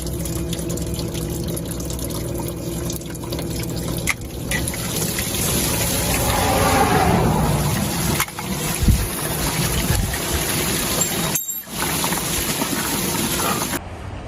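Coolant draining from a leak in an MCI bus conversion's cooling system in freezing weather, a steady continuous rush of liquid with a broad gushing wash, loud and close, briefly cut off near the end.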